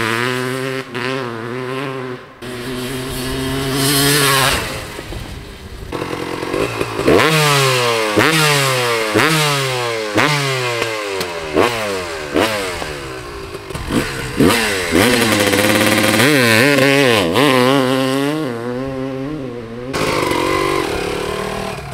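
A 1998 Yamaha YZ250 two-stroke dirt bike revving on a lawn, loud and close, with repeated sharp throttle blips that rise and fall in pitch, separated by brief idling dips.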